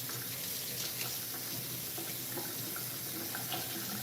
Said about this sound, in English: I'm just gonna rinse this off really quick.